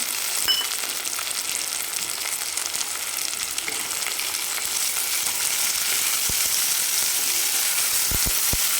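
Finely chopped country tomato sautéing in a pan over low to medium flame for a street-style chicken masala, a constant close sizzle with a few sharp clicks of the spatula toward the end.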